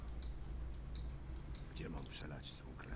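Rapid mouse clicking during a Warcraft match, in quick irregular bursts of sharp clicks under steady background hum, with a voice speaking over the end.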